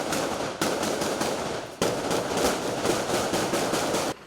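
Rapid bursts of gunfire crackle through a police shootout in Nova Iguaçu, Baixada Fluminense, as a dense, loud volley runs almost nonstop, with a sharp fresh burst near the middle and a sudden stop at the end.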